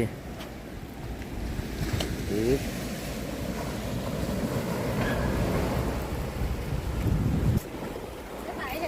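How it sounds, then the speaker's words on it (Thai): Strong wind buffets the microphone on the Gulf of Thailand seashore at Hua Hin, with the tide coming in and a continuous roar of surf and gusts throughout. "ทะเลอ่าวไทย ลมแรง น้ำก็ขึ้น"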